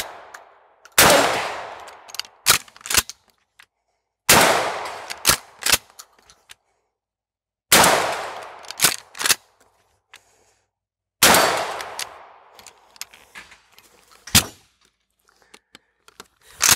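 A Mossberg 500 pump shotgun fires four loud, sharp blasts about three seconds apart during a high-round stress test. Each blast decays quickly and is followed by quick metallic clacks of the pump action cycling.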